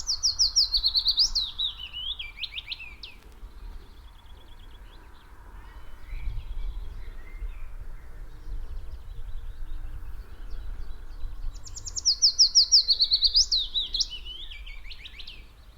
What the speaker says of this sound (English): it's just very quiet and there's lots of nice bird sounds